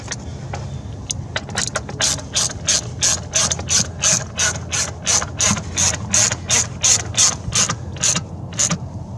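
Ratchet wrench tightening a bolt on the brake booster of a 2012 Dodge Grand Caravan, a steady run of about twenty close, sharp clicks in even rhythm, with no talking.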